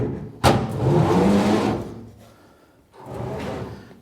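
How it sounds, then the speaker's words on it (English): A LoSiderSafe truck bed storage drawer opens with a sharp knock, then a long rumbling roll as it slides out, followed by a second, shorter rolling slide, all close up with no talk. "this drawer here just pulls out"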